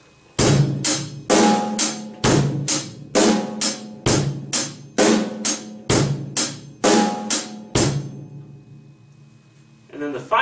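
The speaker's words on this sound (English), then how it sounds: "we could take our left hand and add in the snare drum, and it will sound like this." Rock drum beat played on a kit, with snare drum hits added over steady hi-hat and bass drum; about seven loud, even bars in a repeating rhythm, then the playing stops near the end.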